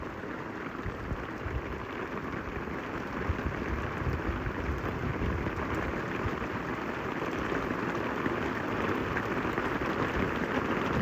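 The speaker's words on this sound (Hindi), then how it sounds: "बारिश हुई रही है" Heavy, stormy rain pours steadily at a bridge construction site near Mirpur, Azad Kashmir, a dense continuous hiss of drops on surfaces with no voices, holding even and loud throughout.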